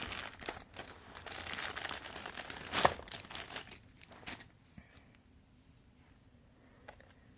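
A plastic bag holding a Star Wars Game Boy bundle crinkles and rustles close up, a busy stretch of handling with one sharp crackle, then fading to faint scattered crinkles.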